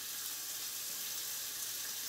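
A soft, steady sizzle of bacon cooking slowly in a pan on a stovetop, a thin crackling hiss with no voices.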